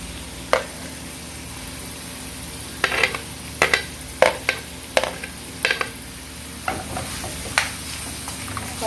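Onion added to a pan and stirred while cooking chicken sliders: a steady low sizzle under repeated sharp scraping clicks of a spoon against the pan, close and moderately loud.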